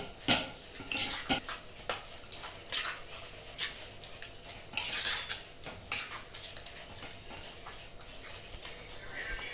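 A spoon scraping and clinking against a pot on a gas stove while mango and jaggery gulamba is stirred, a steady run of sharp metallic strokes close by over a low background.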